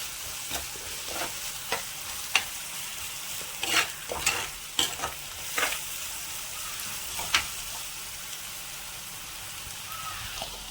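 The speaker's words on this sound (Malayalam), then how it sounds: "നന്നായി ഇതിൻ്റെ പച്ചക്കുത്തൊക്കെ പോണ വരെ നമ്മളിങ്ങനെ വഴറ്റിക്കൊണ്ടിരിക്കണം." Ginger, garlic and green chilli paste sautéing with prawns in a pan, a faint steady sizzle under a scatter of sharp scraping stirs that come irregularly and then thin out near the end, close and quiet, with no talking.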